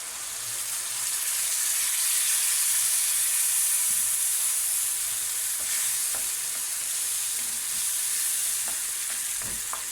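Onions that have browned in oil sizzle loudly and steadily in a pan as tomatoes go in, with occasional scrapes and clicks from stirring.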